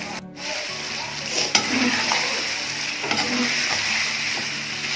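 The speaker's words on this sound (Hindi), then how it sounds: "आप मज़ीद इसको 3 से 4 मिनट इसको फ्राई करें, अच्छी तरह इसको भूनना है" Green chicken karahi sizzles steadily in a hot pan, a continuous close frying hiss broken by a few light stirring scrapes.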